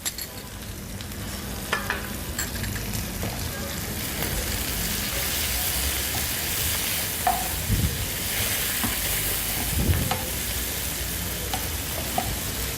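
Garlic sizzles steadily in hot oil in a pan for seafood paella, a close continuous frying hiss with occasional stirring scrapes and clinks.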